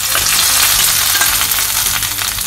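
Browned fried onions in hot oil or ghee sizzle steadily as they are poured into a pumpkin and bean payasam, a loud continuous crackle with no voices.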